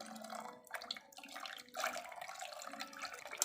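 Water, 500 grams containing dissolved sugar, poured gently into a container while making shower gel with oil and lye, a soft steady trickle and splash, close and fairly quiet.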